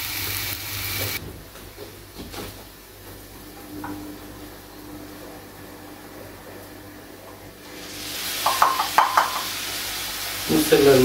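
Rice and corn sautéing in butter give a quiet, steady sizzle, and near the end a few sharp scraping stirs of a spoon against the pan become louder.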